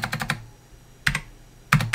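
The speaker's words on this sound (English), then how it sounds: "So let's just type in a function" Bursts of typing on a computer keyboard: a quick run of keystrokes, a pause, then two more short clusters of clicks, close and clear with no talk.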